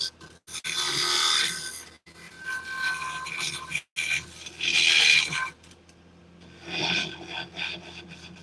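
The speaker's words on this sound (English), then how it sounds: "So I'm just using a scraper here," A scraper rubs across wood spinning on a lathe, used to flatten the surface, giving close rasping bursts of scraping separated by brief pauses.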